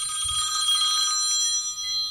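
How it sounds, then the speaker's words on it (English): Telephone ringing during a radio call-in show, a bright continuous trilling ring filling the whole stretch, loud and close with a low rumble underneath and no speech. "They want to call my phone now"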